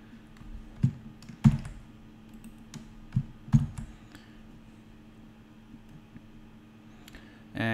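A password is typed on a computer keyboard in a few scattered key clicks and taps, some sharper than others, separated by quiet pauses, with a louder noise at the very end.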